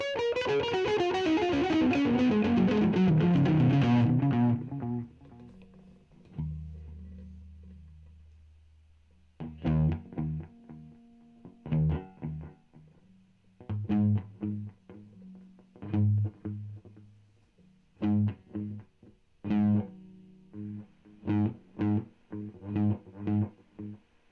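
Electric guitar through a Rowin delay pedal: a strummed chord rings out and decays, then a run of short plucked notes and chords, each trailing faint repeating echoes, with no talking.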